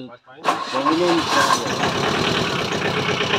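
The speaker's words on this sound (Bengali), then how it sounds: "আমাদের বোট স্টার্ট হয়ে গেল।" A boat engine starts with a sudden roar and settles into a steady, loud idle, while people talk over it at the start.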